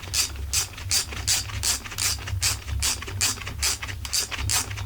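A ratchet wrench clicks rapidly and evenly while tightening bolts on a Husqvarna 45 chainsaw during a rebuild, close up and loud with no talking.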